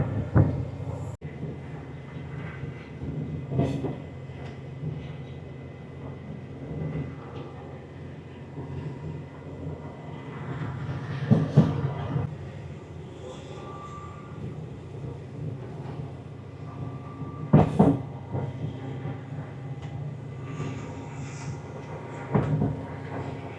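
Steady low rumble of a train from Split to Budapest rolling along tracks, with occasional louder clanks and knocks from the carriage.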